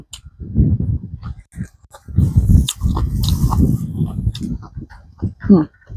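Someone eats fried catfish with rice and sweet fish sauce, making close, wet chewing and crunching bites in irregular bursts, with talking mixed in between mouthfuls.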